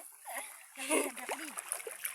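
Water splashes around someone's legs while wading at a tank, in short quiet bursts of splatter mixed with excited voices talking nearby.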